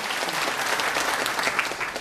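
An audience at a seminar in Dubai claps in a dense, steady round of applause from many hands, close and loud for a couple of seconds.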